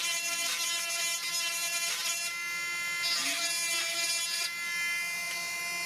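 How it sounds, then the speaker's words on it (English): Dremel rotary power carving tool worked as a sander on a whittled wooden piece, a high, steady electric whine that rises and dips in pitch as it bears down in bursts, close and loud, with no voices. "basically all I'm trying to do is use this thing as a sander."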